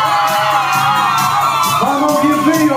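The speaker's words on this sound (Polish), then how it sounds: "Uwaga, dziewczyny piszczą." Girls at a wedding squeal together in a loud, sustained burst of high-pitched shrieks and whoops, a crowd noise with music running underneath.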